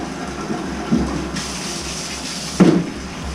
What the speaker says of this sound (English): We just flushed the toilet and they're in there.